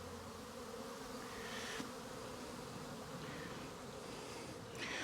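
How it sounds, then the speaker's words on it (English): Honey bees buzzing thickly around an opened hive, a dense, continuous drone of many wings close by, with individual bees swelling louder as they pass near; no talking. "See all the bees now? They're all trying to find the entrance to their home."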